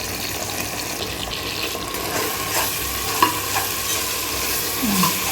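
Onions and ginger-garlic paste being stirred in a pan for a one-pot Bengali chicken curry, a steady close sizzle with occasional scrapes and a few light knocks, no talking.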